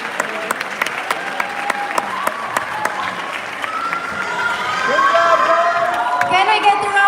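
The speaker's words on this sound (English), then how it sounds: "Can I get a round of applause for all these winners, teams, individual, and for all of you?" An event audience applauds pitch competition winners, starting as scattered individual claps and swelling into loud sustained clapping with cheers and whoops, while a voice speaks over it.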